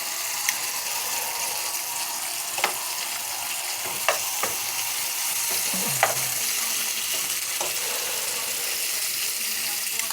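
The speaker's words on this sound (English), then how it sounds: "Oh yeah, nothing like that good sizzle." Chicken pieces searing in a hot pan for chicken Madeira, giving a steady broadband sizzle with a few sharp clicks and utensil taps scattered throughout.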